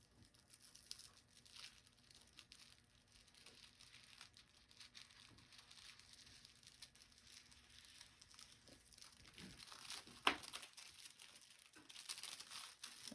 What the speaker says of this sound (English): you may rip the paper a little bit